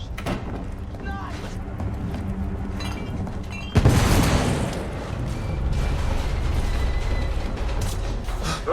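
An explosion aboard a ship in The Order: 1886 hits as a sudden loud boom partway through, leaving a rumbling, roaring wash of debris and machinery noise after steady low background ambience.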